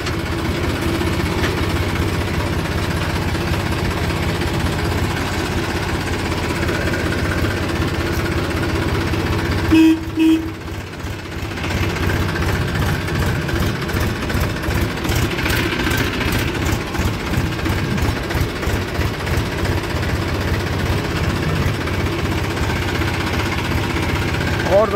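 A tractor engine idles and runs steadily outdoors, a continuous low mechanical drone with a brief interruption midway, while a person talks over it.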